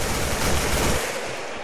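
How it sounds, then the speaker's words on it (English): Dense, continuous gunfire in the video game Insurgency, a loud close wash of rapid shots and crackling that fills the moment and then eases slightly toward the end, no talk. "Taking a lot of fire."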